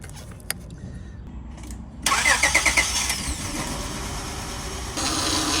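An Acura engine with a misfire cranks briefly and catches, then settles into a steady idle with a faint power steering whine underneath, close and fairly loud.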